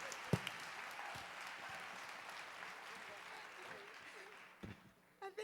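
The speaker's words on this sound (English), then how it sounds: "Give yourselves a round of applause" Concert audience clapping at a show, moderate and steady, with a few sharper individual claps standing out and some voices mixed in toward the end.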